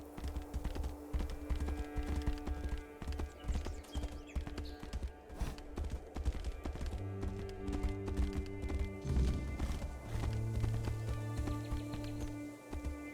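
Horse hooves gallop in a fast, steady clip-clop rhythm while riding in the video game Tainted Grail: Fall of Avalon, with a sustained musical drone underneath and no speech.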